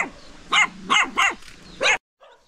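A dog at a rural Vietnamese home barks four times, close and loud, with short pauses between barks before the sound cuts off.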